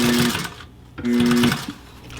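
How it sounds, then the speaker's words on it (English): A sewing machine runs two loud, steady stitching bursts separated by a short pause while tacking extra stitches at a stress point on a DIY tactical chest rig. "I'm putting extra tacking at the top because that's a stress point."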